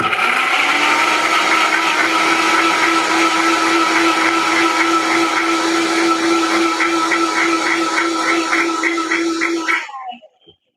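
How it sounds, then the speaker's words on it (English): A small blender cup fitted onto a Vitamix base whirs loudly and steadily for about ten seconds, a constant motor drone with rattling churn, then cuts off abruptly. "in my smaller little blender that fits on my Vitamix"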